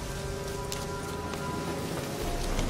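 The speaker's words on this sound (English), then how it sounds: "Looks like rain." Steady rain falling in the video game The Witcher 3, a dense, even hiss of drops on surfaces with a few brighter taps, continuous and fairly loud with a low background drone and no talk.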